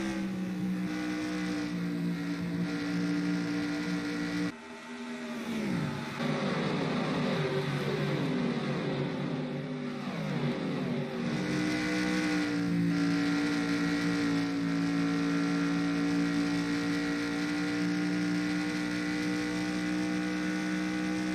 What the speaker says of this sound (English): Kevin Harvick has shown to have the best car as he's looking to cruise to a victory here at Indy